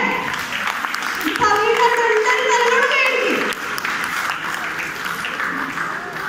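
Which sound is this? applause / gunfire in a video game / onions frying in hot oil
applause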